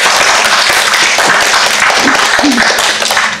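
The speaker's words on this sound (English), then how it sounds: "Please give them a round of applause." A loud, dense round of audience applause welcomes a theatre panel at the Young Vic, continuous close clapping from many hands throughout, with a faint voice briefly underneath.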